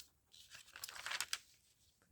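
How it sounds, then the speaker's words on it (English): Paper, including grid paper, torn by hand in a few quick, close, fairly quiet rips clustered in the middle of an otherwise near-silent moment. "just eyeballing it and tearing"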